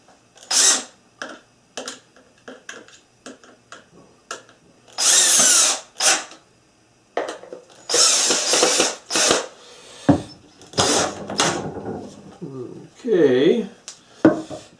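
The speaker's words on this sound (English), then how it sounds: "I'm using this drill, put the screws in so it'll go faster." A power drill drives thin, aggressive gyprock screws into a toy excavator assembly: short close bursts of whirring, some longer runs, separated by pauses, with speech and handling clatter in between.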